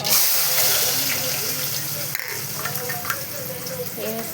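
Onions and green chillies frying with cumin in a pan, a loud, continuous close-up sizzle with occasional stirring clinks and scrapes.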